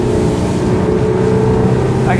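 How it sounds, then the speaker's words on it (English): A Capelli Tempest 1000 motorboat engine drones steadily at close range as it speeds up past 3,700 revs, its low rumble holding strong throughout with water noise layered on top. "let's speed this boat up"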